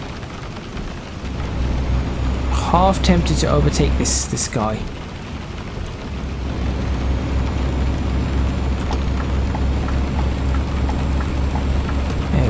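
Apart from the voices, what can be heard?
rain in video game Euro Truck Simulator 2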